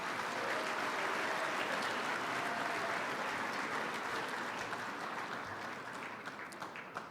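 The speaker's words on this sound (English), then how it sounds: "a final round of applause for the NFF Legacy Award recipients" Audience applause fills an awards dinner hall for football honorees, a continuous even roar of many hands clapping at a distance, tapering slightly near the end.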